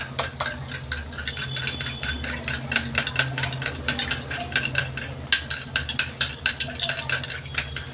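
A spoon stirring red chili sauce, green chili sauce and tomato ketchup together in a small bowl, producing a run of light scraping clinks and taps that quicken toward the end, close and fairly quiet.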